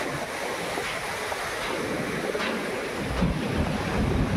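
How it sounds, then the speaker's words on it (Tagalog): Heavy surf crashes continuously after a typhoon, a broad roaring wash of waves with gusts of wind buffeting the microphone; a bigger surge swells near the end. "Ang lakas ng hampas ng alon."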